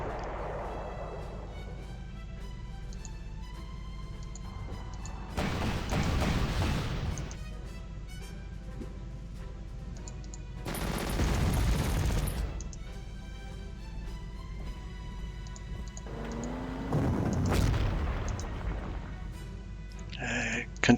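Artillery shells striking in a WWII strategy video game, three heavy booming impacts spaced a few seconds apart over a steady game soundtrack.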